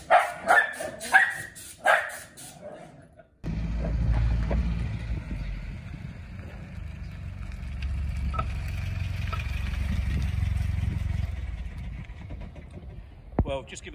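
Several sharp dog barks ring out close by in quick succession in a car workshop, then give way to a steady low rumble of engine and outdoor noise.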